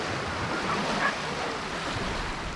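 Surf washes steadily onto a beach on the Isle of Wight coast, a continuous broadband roar under light wind with no clear individual breaks, moderately loud and unbroken throughout.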